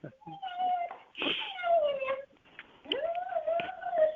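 A dog lets out a string of high, drawn-out whimpers and whines, close and fairly loud, in several separate bursts with short pauses between.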